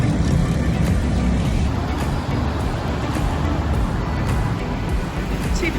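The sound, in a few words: afternoon road traffic in Bangkok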